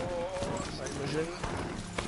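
Hooves clip-clop at a steady walking rhythm in the open world of the video game Horizon Zero Dawn, moderately quiet beneath game music and a spoken voice.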